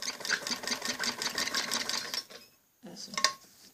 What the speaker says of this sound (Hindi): इसके ऊपर ऐसे फिर सिलाई लगानी होती है